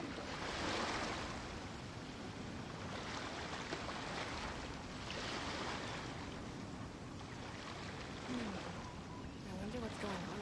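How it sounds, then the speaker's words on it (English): Calm ocean waves from the Genshin Impact video game roll in a steady, continuous wash with gentle swells, heard alongside background game ambience. "The waves are as calm as always."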